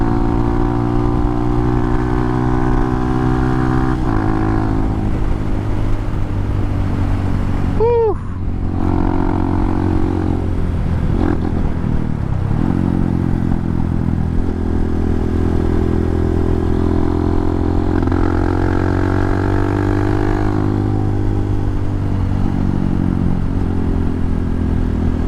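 A fully warmed-up motorcycle engine idles close by with a steady, loud rumble and a faint rise and fall in pitch, plus brief clatter midway.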